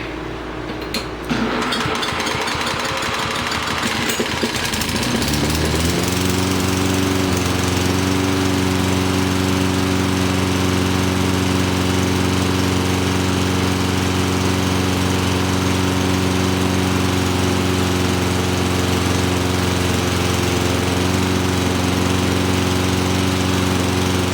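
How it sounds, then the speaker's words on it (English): A Toro lawn mower engine starts after a brief pull and settles into a loud, steady running drone, close by and continuous for the rest of the stretch with no talking. "Let's see if I can use our magic starting method to get going."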